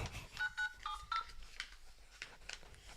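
A telephone keypad sounds a quick series of short dialing beeps, several in a row, over faint room noise during a live podcast recording.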